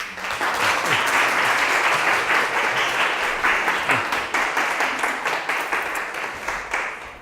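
An audience in a lecture hall gives sustained applause to welcome a professor, dense steady clapping from many hands that swells and then gradually thins toward the end.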